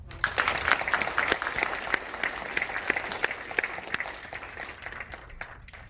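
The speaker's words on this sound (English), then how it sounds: "let's give him a round of applause" A crowd at a graduation ceremony applauds steadily, with many individual claps crackling through a dense, even patter that thins slightly toward the end.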